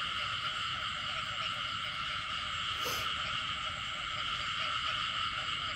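Frogs croak continuously in a garden in Đa Phước, forming a dense, loud, steady chorus that fills the whole stretch with no clear pauses.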